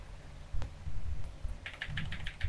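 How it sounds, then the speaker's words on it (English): Fingers type on a computer keyboard, first a few sparse clicks, then a quick run of crisp, evenly spaced keystrokes near the end, close and clear over a low hum, with no talk. "He's still typing."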